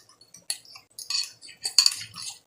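A utensil scrapes and clinks against a pan while chicken fajita mixture is stirred, giving a few short, bright metallic scrapes in uneven bursts, close and fairly loud, with no voices.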